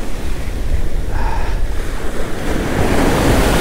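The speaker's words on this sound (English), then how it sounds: "Of course, we got like the biggest waves of the day" Big ocean waves breaking on a beach during surf fishing, a loud continuous roar and wash of surf with strong wind buffeting the microphone.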